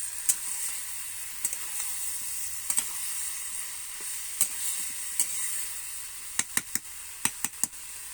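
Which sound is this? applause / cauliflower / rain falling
cauliflower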